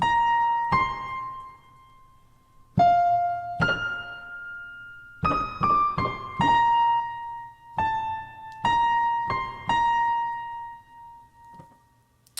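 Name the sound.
piano playing melody with higher notes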